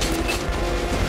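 Sniper rifle being reloaded in Metro Last Light Redux: a short run of close mechanical clicks and ratcheting metal, heard alone.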